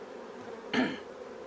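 Honey bees buzz briefly during a hive inspection in Australia, a short close swell of droning wingbeats rising over a soft steady background hum.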